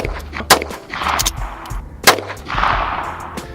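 Federal .22LR shotshells fired from a short-barrel pistol at a soda jug about seven yards away: two sharp, loud cracks roughly a second and a half apart, over outdoor background noise.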